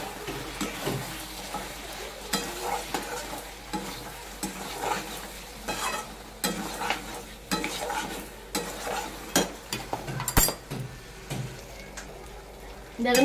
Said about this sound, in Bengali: হলুদটা দিয়েও কষবো।